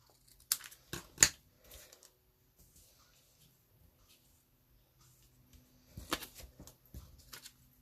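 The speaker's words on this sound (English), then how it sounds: "I'm going to cut this off at an angle" Scissors snip paper scraps for card making: a quick burst of several crisp cuts, a quiet pause, then another cluster of snips. Close and fairly faint, with no talking over them.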